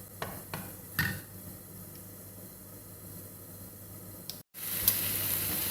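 Sausage fat and onions sizzle in a pan with a steady, faint hiss, broken by a few sharp ticks and crackles and a brief louder burst near the end.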